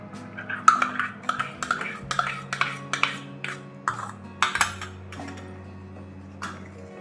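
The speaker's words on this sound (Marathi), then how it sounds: "सारखे हलवत राहायचे, म्हणजे खाली लागणार नाही असे" Sweetened milk being stirred in a pan on the stove: repeated light metallic scrapes and clinks of a spoon against the pan in an irregular rhythm, close and clear, with a faint background hum and no talk.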